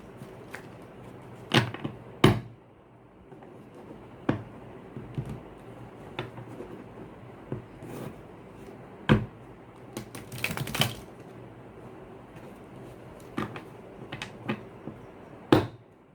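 Tarot cards being shuffled and handled up close, a string of sharp, irregular clicks and snaps with quiet pauses between them.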